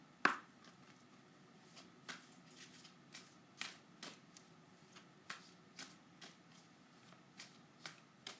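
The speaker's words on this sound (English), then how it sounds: "every time I pull it, I start shuffling it" An oracle card deck is shuffled by hand at a quiet tarot reading, producing a run of soft, crisp card riffles and taps at an uneven rhythm, close and faint, with no talk.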